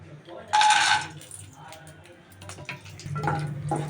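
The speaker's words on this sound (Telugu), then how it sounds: "నెయ్యి కొంచెం వేడెక్కిన తర్వాత దీంట్లోకి మనం కొన్ని జీడిపప్పు వేసుకుందామండి" Cashews dropped into a little heated ghee in a pan make a sudden sharp sizzling burst, followed by quieter crackling and clinks that swell again near the end.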